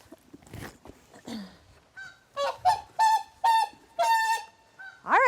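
A white-naped crane at a zoo gives a run of loud, close, honking calls in quick succession, preceded by a few soft scuffles and rustles, with no talking.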